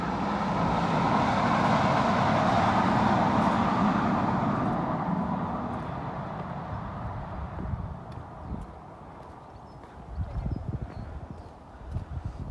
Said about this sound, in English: The metro going along.